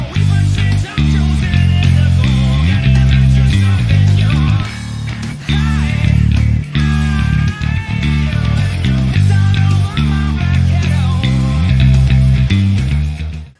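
Bass guitar plays a bass line, with loud, deep, stepping notes in a driving, syncopated rhythm that continues without a break and without talk.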